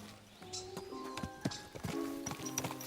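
Horse hooves clip-clopping at a walk in the medieval game Kingdom Come Deliverance 2, a close, uneven series of hoof strikes with a brief whinny and faint voices.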